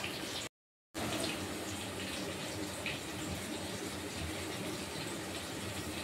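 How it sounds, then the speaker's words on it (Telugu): Running tap water pours steadily as coriander leaves are washed in a kitchen sink, a continuous hissing splash that cuts off for a brief moment near the start and then resumes. "కొంచెం మట్టి ఉంటుంది కాబట్టి చాలా మంచిగా కడుక్కుంటే బాగుంటుంది"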